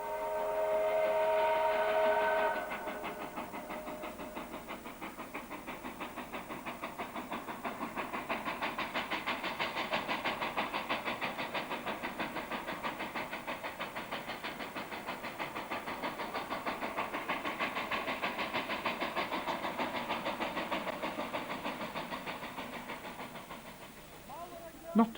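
An L-class steam locomotive works a train on a mostly flat route with some hills, giving a steady rhythmic chuffing and hiss that holds for over twenty seconds, with a brief louder tone at the start, heard at a moderate distance.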